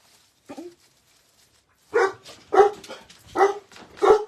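Several dogs bark in a home where a wreath is being made, starting with one short soft yip and then four loud, close barks in a steady rhythm, with no talk over them.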